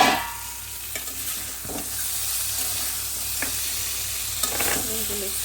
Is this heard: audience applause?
no